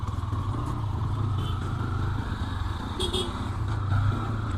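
Motorcycle ride at night on a highway, a steady low engine drone with some rattling clatter, close and continuous.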